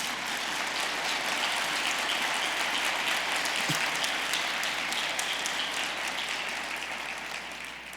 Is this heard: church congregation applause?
yes